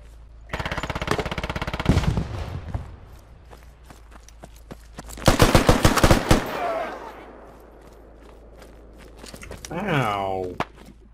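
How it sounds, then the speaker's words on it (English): Gunfire in the military shooter game Squad, with bursts of rapid automatic shots and a later burst, between stretches of footsteps and game noise, with players talking over voice chat. "Yeah, this dude's just friendly firing"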